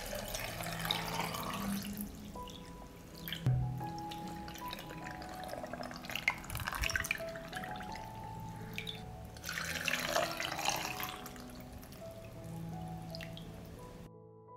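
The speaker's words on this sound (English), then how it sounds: "I will fill the jars with cold water to cover the plums." Cold tap water runs and drips into glass jars packed with plums, a close, gentle splashing and trickling with shifting gurgles and no speech.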